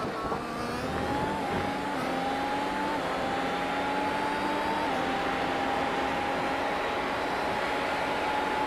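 A steady, high-pitched engine whine from F1 race cars in a racing video game at San Marino, holding a sustained drone with small gear shifts and a pitch that rises and falls, constant and fairly loud, with no talk over it.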